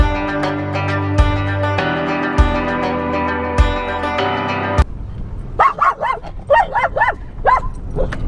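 A dog barks in a rapid, clustered series of yips and barks close by, following a stretch of loud music with a steady beat.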